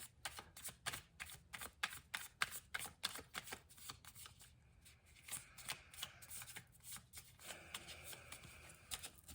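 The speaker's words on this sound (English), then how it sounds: "I'm going to give it one more shuffle though, just for good measure here." A deck of tarot cards being shuffled close up, rapid riffling flutters in repeated bursts with soft taps between, no voices.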